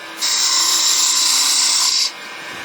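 A wood lathe turning an acorn as a detail gouge cuts, a steady high whine that rises suddenly, holds for about two seconds, then drops back to a quieter hum.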